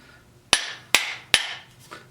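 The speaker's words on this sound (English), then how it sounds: "little shoemaker's hammer to set wedges and all that." A small shoemaker's hammer strikes three sharp, loud blows in steady rhythm, then a fainter fourth tap, driving wedges to seat an axe head tightly on its handle.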